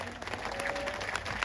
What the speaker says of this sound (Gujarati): તાળી થઈ જાય એમના માટે